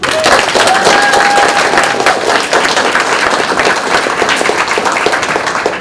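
An audience applauding at a college honor society induction ceremony, steady loud clapping from a large crowd that carries on throughout, with a faint whistle or cheer near the start.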